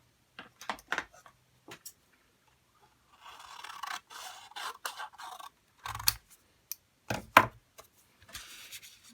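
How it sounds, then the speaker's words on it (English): Scissors cut through craft material in a quiet room: several short, crisp snips, then a longer run of scraping cuts, with a few louder snips and rustles near the end. "And then let's cut this in half."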